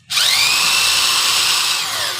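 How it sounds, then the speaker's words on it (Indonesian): A power drill bores out a clamp on a washing machine, starting abruptly and holding a loud, steady high whine close by, easing slightly at the end, with no talk. "Kita buka dulu ini dengan bor."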